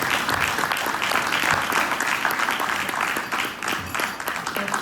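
A ceremony audience at an ROTC Hall of Fame event gives the Tuskegee Airmen class a round of applause. The steady, full crowd clapping holds throughout, with only a slight dip near the end.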